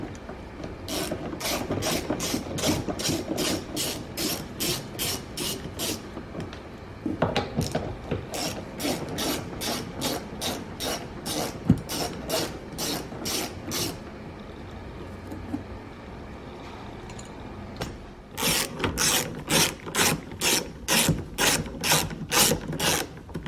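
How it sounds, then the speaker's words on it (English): A hand ratchet undoes size 10 bolts on the door mirror of a 2014–2019 Kia Soul, clicking in long rapid runs of sharp, evenly spaced ticks, close and loud, with short pauses between bursts. "then we have these 3 bolts to undo"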